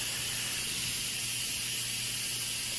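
Steam blasts out of an Instant Pot pressure cooker's release valve as it vents after cooking white beans and tomatoes, a loud, constant, broadband hiss with a faint low hum underneath and no talking.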